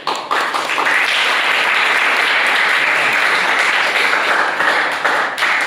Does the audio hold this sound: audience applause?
yes